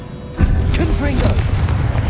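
A Confringo explosive spell blast from Hogwarts Legacy lands with a sudden deep boom, then a sustained rumbling roar mixed with whooshing game effects and a voice calling out over it.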